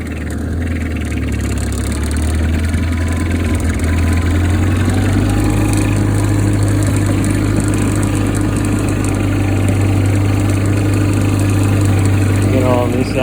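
A Cub Lo Boy 154 tractor plows snow in second gear, its engine droning steadily and loud throughout with a constant low rumble and rattling vibration.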